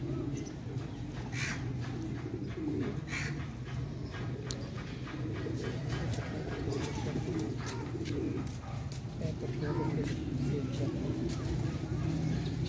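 Teddy pigeons coo low and repeatedly in a loft, a soft steady murmur of bird calls with someone talking over them throughout.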